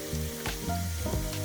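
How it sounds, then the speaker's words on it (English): Red Argentine shrimp sizzle in a hot pan for garlic shrimp pasta, giving a steady, close frying crackle with a few louder pops and stirring scrapes, and no talking. "All right, the shrimp are sizzling."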